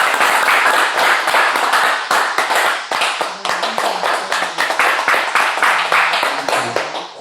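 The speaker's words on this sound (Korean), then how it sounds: "자, 박수." Applause from a small gathering at a Buddhist precept ceremony in a Korean temple, a steady run of close, loud hand claps that thins out and turns more scattered toward the end.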